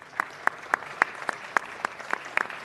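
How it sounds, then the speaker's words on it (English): Audience at a city council meeting applauding steadily for a few seconds, a sparse run of distinct claps at an even rhythm, fairly close and clear with no talk over it. "Let's give them a round of applause."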